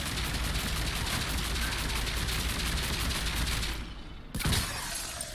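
Rapid, dense energy-weapon fire from a particle cannon in the sci-fi shooter Mass Effect 3, a continuous loud stream that cuts off, followed by a short burst.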